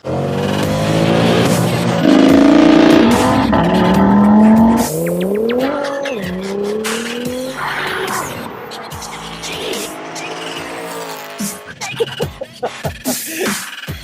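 Mitsubishi Evo 8 FQ300 with a 400 bhp 4G63 engine and four-wheel drive, driven hard: loud engine revving and rising gear pulls, then sharp tire squeals and skids near the end.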